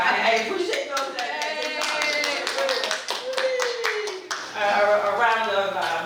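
Audience applause, a dense patter of clapping hands heard alongside a person speaking over it, the claps rising and falling through the moment.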